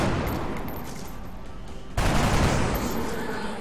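Gunfire from the turn-based strategy game XCOM: Long War rings out loudly, with a steady crackle of shots that jumps into a heavier, denser volley midway through.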